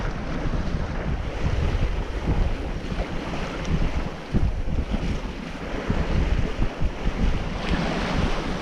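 Wind and waves aboard a sailing boat in the Exumas, with a continuous rushing roar of water along the hull and gusty wind noise on the microphone, loud and unbroken, with no voices.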